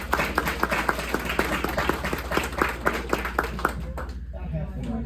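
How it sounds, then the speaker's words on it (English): A room of people at a community meeting in Hampton Bays claps together in a steady, even rhythm of many hands for several seconds, then the applause stops. "we're gonna take a little clapping survey."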